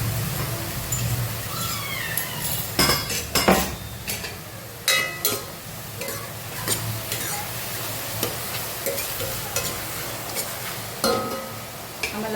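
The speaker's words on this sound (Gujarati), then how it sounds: "સાઈડમાં એડ કરી થોડું સાંતળી લઈશું આપણે." Chopped green chillies and garlic sautéing in a pan over a full gas flame, with a steady sizzle and repeated clinks and scrapes of a spoon against the pan, close and without talk.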